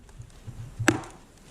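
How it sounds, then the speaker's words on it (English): Firewood being split with a steel wedge and hammer, heard as one sharp crack or pop near the middle of a short, quiet stretch with faint low rustling around it. "You can hear it popping."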